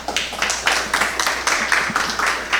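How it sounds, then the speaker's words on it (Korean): An audience at a deep-tech innovation forum claps for a company CEO taking the stage. Separate bursts of clapping pulse in an uneven rhythm, fairly near and moderately loud. "여러분 박수 부탁드립니다"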